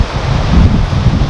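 Strong wind gusting across a Scottish landscape near the Loup of Fintry waterfall, a steady low roaring rush with buffeting across the whole clip and no voices.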